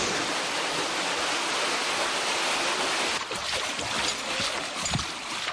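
Río Vero river flowing through a canyon in the Sierra de Guara, a steady broadband rush of water that turns more splashy and uneven partway through, close and fairly loud with no voices.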